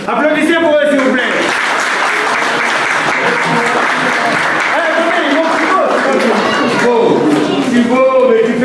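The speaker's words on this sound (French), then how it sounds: "Applaudissez pour eux s'il vous plaît." Wedding guests at a traditional wedding clap in sustained, loud applause with crowd cheering, continuous throughout and mixed with voices from the gathering.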